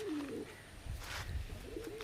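Pigeons coo softly in a loft, a few low throaty rolling coos heard close but faint over quiet background rustle.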